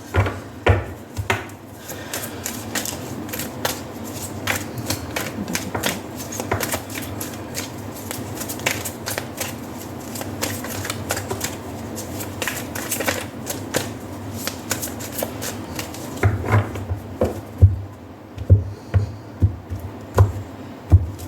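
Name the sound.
shuffling tarot cards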